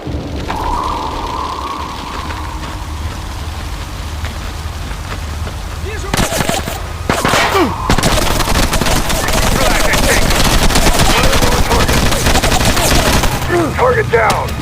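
Gunfire in the tactical shooter SOCOM: U.S. Navy SEALs Fireteam Bravo 3, starting after a quiet stretch and turning into sustained loud bursts of automatic fire and rattling shots. Radio-style voice callouts are heard among them.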